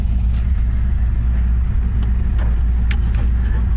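The old six-cylinder engine of a 1953 Kaiser two-door Club Sedan Deluxe idles steadily nearby, a low, even rumble with faint clicks and light background noise.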